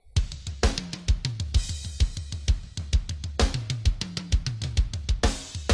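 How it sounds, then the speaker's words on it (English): Layered snare drum preset, Yosh's BR10 Instant Fat Snare, in a big CCM-style mix with blended room sound: a steady run of punchy, fat snare hits with kick underneath, loud and close, repeating in a regular groove with no talking. "So it's like those big elevation CCM snares sound like this."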